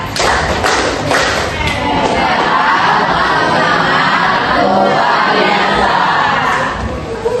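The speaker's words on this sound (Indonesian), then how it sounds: "Kalian tepuk tangan dulu 3 kali" Classroom of students performing a rhythmic clapping chant during a teaching practice lesson, loud group claps and thumps blending with shouted voices in a dense, energetic burst.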